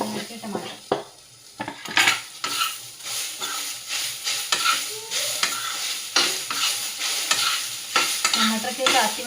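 Chopped tomato being stirred and fried in a pan of sabudana khichdi, with a steady sizzle broken by repeated scraping clinks of a spoon against the pan, fairly close and prominent.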